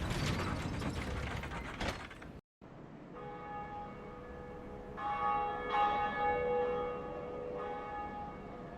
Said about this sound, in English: And there we go, a Bell of Awakening.